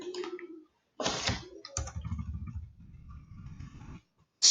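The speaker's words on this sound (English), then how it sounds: "So let's type it here." Keys tapped on a computer keyboard in a short close burst of clicks, with brief pauses and a louder rattle at the end; no voices.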